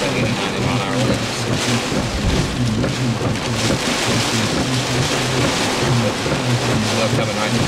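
Strong, damaging 80 to 90 mph winds of a June 2009 storm in Reno County, Kansas roar steadily at close range, buffeting loudly without a break, with rain mixed in.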